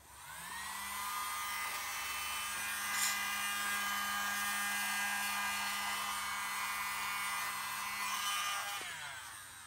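A hair dryer blows steadily over poured paint on a purse, a continuous whirring hum close by that starts and stops cleanly, with no talk over it.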